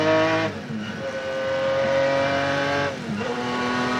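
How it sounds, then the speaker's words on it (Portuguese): McLaren race car with a BMW engine shifting up into sixth gear and accelerating in a 1996 Gran Turismo race in Brasília, a loud steady engine whine with brief dips at each gear change, heard alone. "Engata a 6ª marcha o Piquet e manda o pé na McLaren. Usa toda a força do motor BMW e vai embora."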